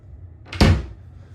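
A single wooden drawer in a hotel villa room slides and knocks shut with one short, close thump, otherwise quiet.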